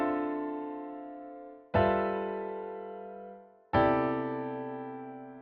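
A jazz ii-V-I progression played as three sustained chords, each struck cleanly and left ringing as it slowly decays, loud and alone without talk.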